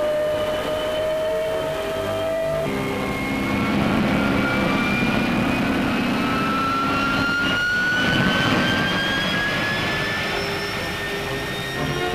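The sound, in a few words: Meteor jet aircraft in flight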